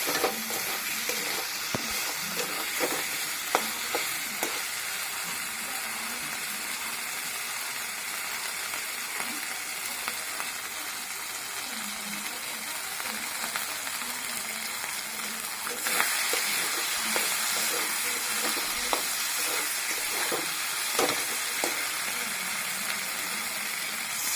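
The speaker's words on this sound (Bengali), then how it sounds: "মশলাটা ভাজা হয়ে গেছে, আমি সামান্য একটু জল দিই।" A steady sizzle of frying spice paste with a sharper, louder surge partway through as water hits the hot pan, plus occasional scraping stirs; no voices.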